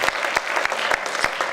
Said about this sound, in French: Des applaudissements, s'il vous plaît, pour cette dernière médaille